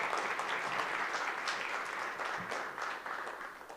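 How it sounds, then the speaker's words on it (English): Steady audience applause at a special Board of Education meeting, a dense wash of many hands clapping for the whole stretch, fairly even in loudness before easing slightly toward the end. "Perry and Brian, one more round of applause for you guys"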